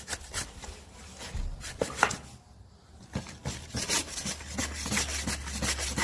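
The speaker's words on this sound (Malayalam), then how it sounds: "ഇതിനെ ചിരണ്ടി കളയേണ്ടി വരും" A hand tool scrapes dried, burnt grass plants off the ground in repeated rough, gritty strokes, close and uneven, with a brief pause midway before the scraping resumes.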